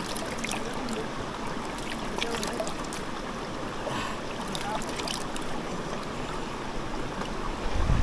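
Water rushes over rocks at Enagasari waterfall in Telangana, a steady broadband roar close by with occasional splashes, and faint voices in the background.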